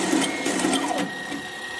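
Agarbatti incense stick machine with auto feeder and its roller running, a steady mechanical whir with faint repeated clicks and a thin continuous tone, close and moderately loud, with no voices.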